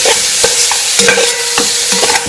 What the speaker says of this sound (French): vous venez prendre votre saumon et donc vous mélangez